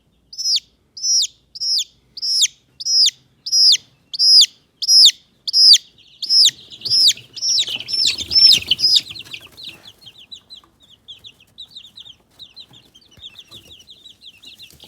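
A flock of chickens in a coop gives a steady run of evenly spaced high peeps. These give way to a busier, overlapping chatter of chirps and soft clucks that gradually thins out.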